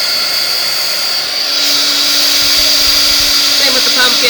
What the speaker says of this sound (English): we just take our heat embosser, or heat gun, and melt the embossing powder so it's all pretty